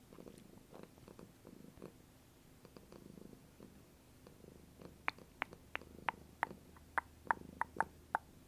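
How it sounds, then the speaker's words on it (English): A cat purring on a lap, a soft rhythmic rumble at a distance from the microphone, faint under background noise, followed by a series of sharp, evenly spaced clicks toward the end. "My cat's purring so loudly."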